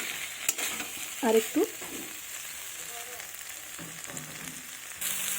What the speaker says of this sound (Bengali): এইভাবে ভালোভাবে কষিয়ে নিচ্ছি।